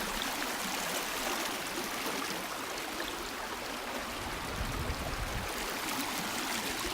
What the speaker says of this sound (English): It's like a legit river.